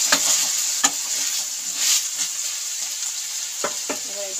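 Flattened rice stirred in a hot pan with salt and turmeric powder, a steady soft sizzle broken by several sharp scraping strokes of the spoon against the pan, close and clear with no talking.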